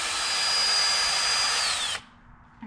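A power drill boring through the window frame of a Corvair van, a steady high whine for about two seconds that stops abruptly, close and loud.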